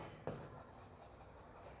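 A short scratch of writing on paper or a board during a maths lesson, a single quick stroke close by, faint and alone with no talk.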